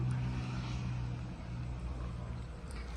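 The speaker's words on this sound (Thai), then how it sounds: "เครื่องยนต์ปกตินะครับ" A black 2019 Yamaha YZF-R15 idles nearby with a steady low engine drone that holds even throughout, with no one speaking.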